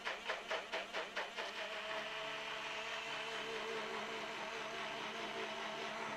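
A small rechargeable portable blender grinds four tangerines close by, pulsing choppily at first as fruit chunks hit the blades, then settling into a smooth, steady whir.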